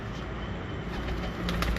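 Breeder pigeons of a teddy-coloured Bhatija bloodline coo in a loft, a soft, low, continuous murmur of overlapping calls close by with no talking.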